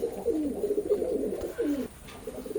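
Teddy pigeons of an imported Oman bloodline coo close by in soft, repeated low rolling phrases, with no other sound over them.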